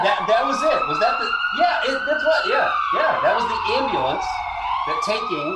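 An ambulance siren wails with a rising and falling tone, loud and close, while people talk over it.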